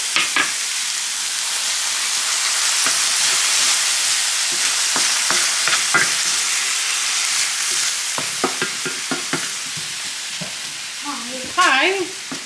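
Garlic frying in a pan in a home kitchen, a steady close sizzle with occasional stirring clatter and clicks, with a brief brighter burst near the end.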